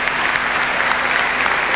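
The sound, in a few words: applause at the 2000 Olympics host city announcement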